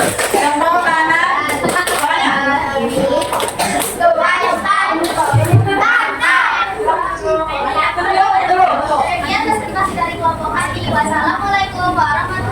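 A primary school class claps for a group in rhythmic patterned bursts. The clapping is mixed with lively chatter and a teacher's voice throughout.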